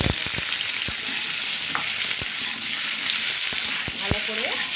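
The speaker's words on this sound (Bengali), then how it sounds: "আলুগুলো সঙ্গে মান কচুটাও দিয়ে একসঙ্গে ভেজে নেব" Potatoes and mankochu fry together in hot oil in a pan, a steady close sizzle with scattered sharp pops and scraping clicks, no talking.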